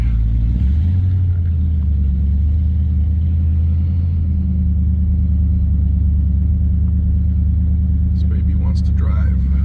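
A 1971 Dodge Polara with 31,000 original miles, just fitted with new spark plugs, idles with a loud, deep, steady rumble and eases into a brief rev, with someone talking faintly near the end.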